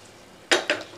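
Potol (pointed gourd) and paneer being sautéed in a pan give two quick, close metallic clanks of a utensil against the pan, one after the other, over a quiet background.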